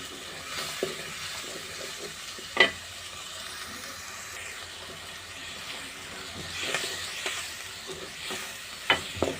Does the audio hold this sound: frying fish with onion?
yes